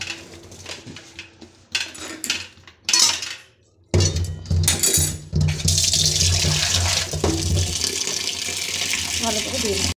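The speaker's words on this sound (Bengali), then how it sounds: "চাউমিন সেদ্ধ হয়ে গেছে, এবার ঢেলে ধুয়ে নেব চাউমিনটাকে" Boiled chowmein noodles are rinsed under a running tap in a kitchen sink, a steady loud gush of water starting partway through, with clatter of pots and a few brief bursts of water before it.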